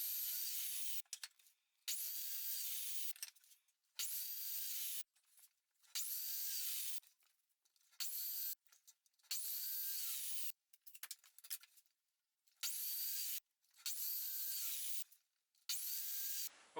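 Pallet wood being worked with a power tool, probably sawing or sanding, in roughly eight loud bursts of a second or so each, separated by short pauses, with no voices.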